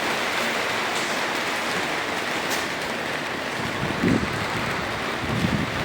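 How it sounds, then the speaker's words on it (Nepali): Heavy rain falling at a house in Saudi Arabia, a steady dense hiss of downpour heard close and continuous throughout. "साउदीमा पानी पर्नु भएको छ आज।"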